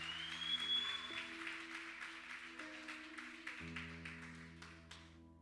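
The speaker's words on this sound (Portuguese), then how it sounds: "Aplauda o Senhor em nome de Jesus." Broad, steady applause from a large church congregation fills the space, with low sustained organ-like tones underneath, slowly fading toward the end.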